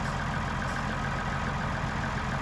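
A Massey Ferguson 2645 tractor of about 140 horsepower idles steadily, its low diesel rumble holding an even, continuous drone throughout with no talk over it.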